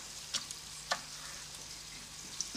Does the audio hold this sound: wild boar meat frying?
yes